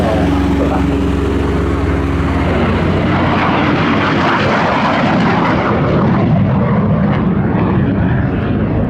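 An ex-Polish Air Force MiG-17 (LIM) jet flies a display at Duxford, its loud, continuous engine roar swelling and shifting as it passes, with a steady low rumble and no talk over it.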